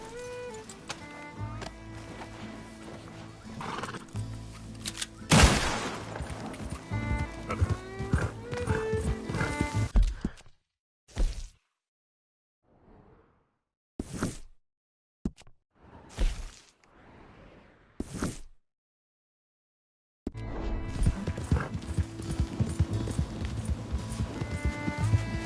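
A horse in a PS4 video game gallops and whinnies amid game music and effects, with rhythmic hoofbeats, a sharp crash partway through, then a stretch of scattered quieter sounds and gaps before the busy mix returns.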